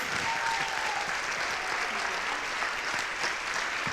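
Audience applause at an evening live talk in an art education center in San Leandro, steady and full-bodied clapping from a sizable crowd filling the whole span without pause.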